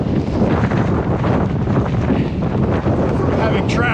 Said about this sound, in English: the wind's a little easier when you're fleeing from it